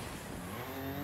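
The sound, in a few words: rally car handbrake slide in EA WRC video game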